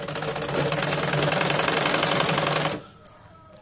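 A small sewing machine stitches bra fabric, a fast steady mechanical whirring with a rapid needle chatter, close and loud, running for a few seconds before stopping abruptly, followed by a faint click.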